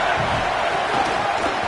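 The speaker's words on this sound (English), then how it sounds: "Man, this crowd really affecting the football game." A home crowd at a football game gives a dense, steady roar of cheering that fills the whole moment, with no distinct voice above it.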